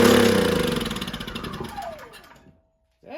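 A Honda EB3000C generator with a freshly cleaned and rebuilt carburetor coughs into life and runs roughly. The engine note fades and winds down into silence, then starts to pick up again right at the end.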